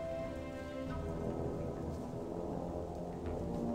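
Steady rain falls throughout in the game Odyssee, a dense, even hiss of rainfall with a low rumbling undertone, continuous and fairly loud with no talking.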